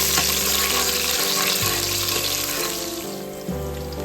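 Half a portion of sliced onions sautes in a pan for a biryani, giving a steady, close sizzle and hiss throughout with no talking.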